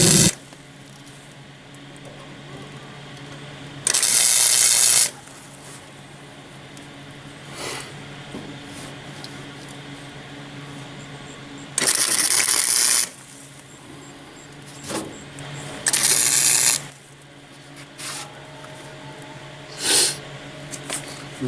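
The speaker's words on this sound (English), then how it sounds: "Get my gloves and my welding hood, and we're gonna tack this all in." Welder tacking a patch panel into a Chevrolet S10 truck bed, with short loud crackling bursts of about a second each at irregular intervals and quiet pauses between them.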